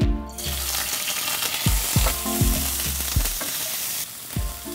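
Nuts roasting in ghee for Kashmiri polao give a steady, loud sizzle with a spoon scraping the pan several times in an irregular rhythm, close up and with no talk.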